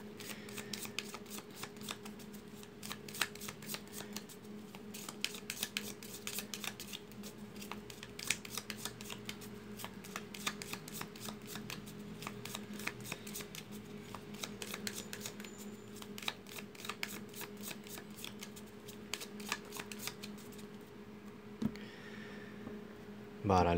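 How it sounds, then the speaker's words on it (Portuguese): Tarot cards are shuffled by hand in rapid, crisp riffling bursts that run steadily for about twenty seconds, close to the listener, with a low hum underneath and a brief pause near the end. "Então vamos às nossas cartas aqui, embaralhando para começar mais uma atividade."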